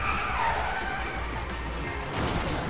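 A car drifts with the handbrake in the video game The Harvest 3, a steady engine roar under a rising and falling tyre screech that lasts a few seconds.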